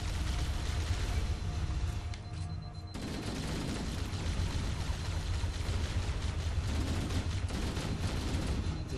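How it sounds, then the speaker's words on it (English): Dense, continuous shotgun fire and explosive blasts from the Halo CE video game, loud and sustained throughout with a brief dip before the barrage resumes. "It's a shotgun, I believe."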